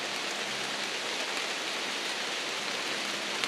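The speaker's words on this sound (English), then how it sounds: "It's beginning to rain." Steady rain begins falling on a hike up Sawyer Mountain in the Adirondacks, a dense, even hiss of drops pattering on surfaces close by with no other sounds.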